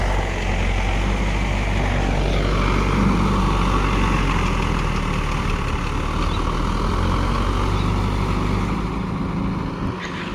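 A Mahindra 575 tech+ tractor pulls a rotavator through muddy ground, its engine a loud, steady, close drone with churning rumble that holds unbroken for the whole stretch, with no voices.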